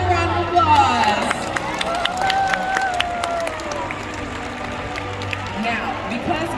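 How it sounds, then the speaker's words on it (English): A crowd at a killer whale show in San Diego claps and cheers in a broad, scattered wash of applause from many hands across a large outdoor stadium, with a voice talking over it. "Everyone give a round of applause."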